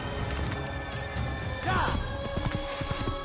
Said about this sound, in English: now let's get back on my horse